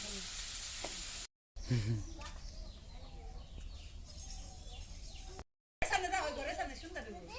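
An egg frying in a pan in a village kitchen gives a continuous sizzle close by, with people talking over it, a chicken clucking and two brief breaks in the sound.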